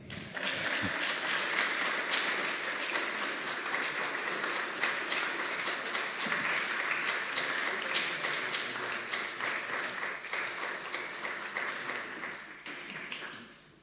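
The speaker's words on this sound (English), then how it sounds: "Ladies and gentlemen, you may clap now." Following an evening history talk, a seated audience gives sustained applause, a broad, steady wash of many hands clapping that stays even for over ten seconds and fades near the end.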